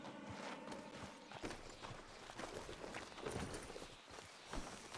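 Horse hooves clip-clop in Red Dead Redemption 2, a steady walking rhythm of soft hoofbeats under a faint, busy game ambience, with no talk.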